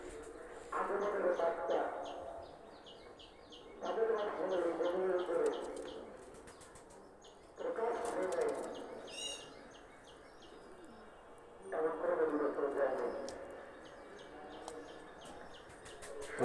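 Pakistani Oman pigeons coo in four rhythmic, spaced phrases, each swelling and then fading, while faint chirps sound overhead and a quiet background hum runs throughout.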